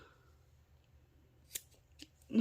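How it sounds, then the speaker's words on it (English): Small scissors snip thread close to the fabric of a knit sailor bow, two or three quick, close, light cuts over a low steady hum. "Probably need to use my scissors."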